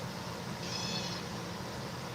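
A house cat, a female, meows once softly and fairly close, a brief drawn-out call over low steady room noise, with no talk.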